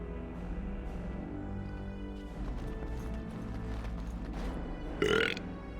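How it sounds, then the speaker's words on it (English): A character burps in the fantasy role-playing game Dragon Age: Origins, one short, loud belch near the end over steady game ambience with hooves clopping and gear rattling underneath. "If you're just gonna burp, I mean, in my face, then no"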